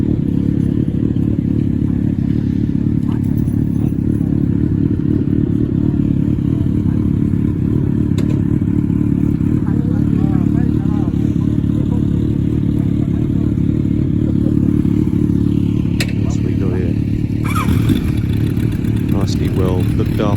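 Kawasaki motorcycles riding past on a street in Japan, a loud, steady low engine drone with some clatter and scraping, with voices talking over it.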